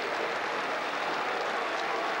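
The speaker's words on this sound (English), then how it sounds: "And good applause for the Diadora League side." Applause from a football crowd at an FA Cup third-round match, a dense, steady wash of clapping that holds at full strength throughout with no voices on top.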